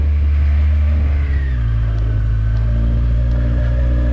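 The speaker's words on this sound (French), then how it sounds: "la sonorité de la moto c'est plus la même" A Yamaha XJR motorcycle engine runs close by, its rumble dropping and settling into a steady low drone after a brief rev.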